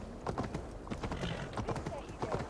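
Horse hooves clip-clop rapidly in Assassin's Creed Valhalla, close and rhythmic, mixed with other game sounds.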